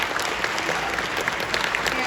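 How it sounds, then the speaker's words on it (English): Audience applause at a 60th anniversary film screening in a theatre, a steady two-second wash of many hands clapping, fairly close and even in level, with no voice over it. "Give yourselves a round of applause."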